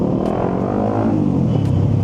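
A Suzuki GSX 150 motorcycle engine runs in its performance map, giving a loud, steady, close-up rumbling drone throughout with no voices.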